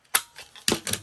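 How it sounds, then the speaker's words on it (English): A corner rounder punch biting through paper corners, giving two sharp, close clunks about half a second apart with a softer click between them, alone and fairly loud. "And now let me round the corners."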